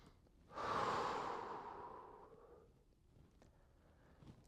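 A single deep breath drawn during an ELDOA spine stretch for the lower back, a close, soft rushing inhale that fades out over about two seconds in a quiet room.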